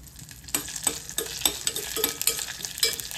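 Mustard seeds and cumin crackling in hot oil, with sharp irregular pops and spits over a steady sizzle, close and fairly quiet.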